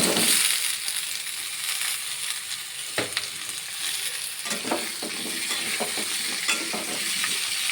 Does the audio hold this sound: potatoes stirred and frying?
yes